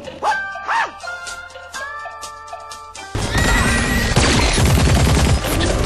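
Rapid gunfire bursts, loud and close, erupt midway through a dim cinematic scene with a dog barking and crashing debris, the shots layering into a dense volley until the end.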